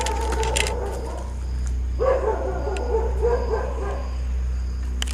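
A dog barks at a light being shone near a factory at night, a few yapping barks at a distance over a constant low hum and chirping crickets.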